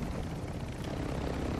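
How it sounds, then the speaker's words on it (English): Steady rotor and engine drone from an arrow helicopter in a multiplayer shooter game, loud and continuous throughout with no talking over it. "Get in the arrow helicopter."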